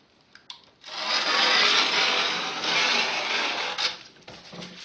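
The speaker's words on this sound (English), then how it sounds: "And then I just cut it with an ordinary craft knife" Craft knife drawn through quiet foam roadbed strips against a straight edge for model railway track, giving a steady close scraping rasp that lasts several seconds after a couple of small taps.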